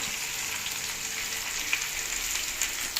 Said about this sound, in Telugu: ఇప్పుడు ఆయిల్ వేడెక్కింది ఫ్రెండ్స్. ఇప్పుడు మనం ఉల్లిపాయలు, పచ్చిమిర్చి